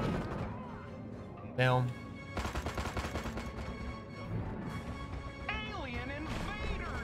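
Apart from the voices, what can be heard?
building being destroyed in Destroy All Humans! video game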